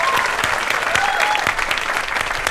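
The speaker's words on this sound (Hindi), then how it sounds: "एक ताली हो जाए।" A studio audience at a comedy show applauds continuously and fairly close. The clapping is dense and even, with no talk.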